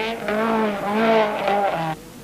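Stig Blomqvist's 16-valve Saab 99 rally car slides sideways through a corner at the 1976 Baltic Rally, its engine howling loud and close with rising and falling revs for about two seconds before cutting off abruptly.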